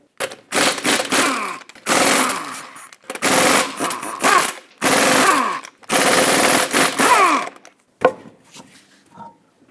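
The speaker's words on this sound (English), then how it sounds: "Use a 21mm socket and remove all 5 lug nuts, and then remove the wheel." A power impact wrench with a 21mm socket loosens the lug nuts on a 2005-2010 Chrysler 300. Several loud, close, rattling bursts of a few seconds each are separated by short pauses, with a clink at the end.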